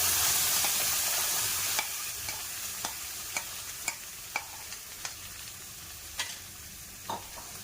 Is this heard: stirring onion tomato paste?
yes